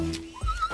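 A horse startled by camera flashes lets out a short, loud, close neigh that rises and wavers, with a soft thud of movement beneath it.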